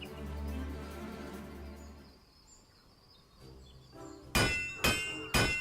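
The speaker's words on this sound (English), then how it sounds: "Why are you hammering it?" Three sharp metallic hammer strikes in Final Fantasy XIV ring out one after another near the end, loud and close, following quieter ambient game music and faint chirps.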